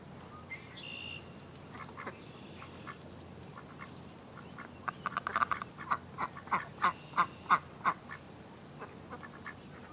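Ducks, including a Muscovy, quack in a yard pond, with a run of about eight distinct quacks in the middle of the stretch over a quiet outdoor background and a few softer calls around them.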